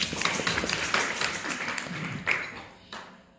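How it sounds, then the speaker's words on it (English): An audience applauds after a correct answer in a quiz about Shri Ram, brisk many-handed clapping that starts at full strength, then thins and fades over about three seconds. "Let's give her a round of applause"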